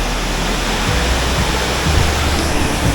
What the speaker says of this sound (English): This is our waterfall number 1 in Glen, Douchary.